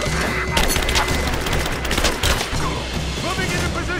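Rapid bursts of gunfire in the Rise of the Tomb Raider video game, a dense fusillade of sharp cracks and booms filling the scene continuously, with shouting voices mixed in among the shots.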